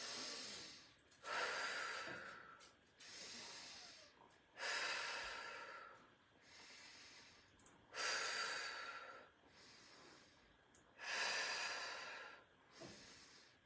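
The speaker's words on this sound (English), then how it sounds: "take a breath in through the nose, down into the womb space" Slow, deep breaths during a yoga-style womb breathing exercise, audible airy inhales through the nose alternating with quieter exhales in a steady rhythm, close and soft.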